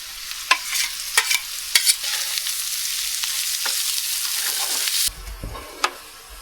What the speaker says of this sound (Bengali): এখন ওই যে রসুন পেঁয়াজটা ভেজে নিচ্ছে